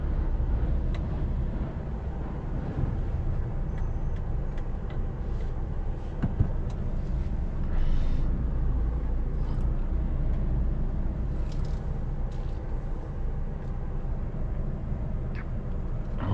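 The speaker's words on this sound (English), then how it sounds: "Gridlock traffic as usual." Slow, gridlocked London traffic, heard from a heavy recovery truck towing a loaded dustcart: a steady low engine and road rumble with a constant broadband drone throughout, and occasional faint clicks and knocks.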